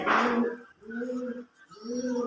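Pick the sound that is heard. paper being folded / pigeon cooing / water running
pigeon cooing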